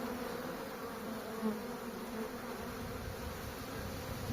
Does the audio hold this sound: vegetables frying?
no